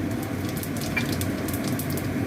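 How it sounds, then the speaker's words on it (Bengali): Cumin seeds and a bay leaf tempering in hot oil left from frying banana-flower koftas, giving a steady, close, even sizzle and crackle throughout with no talking. "কোপ্তা ভাজার তেলে দিয়ে আমি জিরে আর তেজপাতাটা ফোড়ন দিলাম"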